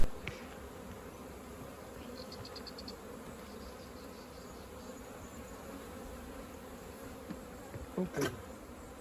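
Native honeybees hum in a steady, dense buzz from a hive being rescued in Manacor, Mallorca, close and continuous, with a few faint knocks and a brief handling noise near the end.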